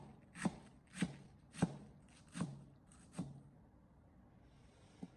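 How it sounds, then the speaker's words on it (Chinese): A kitchen knife shreds cabbage on a cutting board, five crisp evenly spaced chops ringing out close and clear, then a pause and one lighter final tap, with no voices. "我们将包菜改刀切成包菜丝"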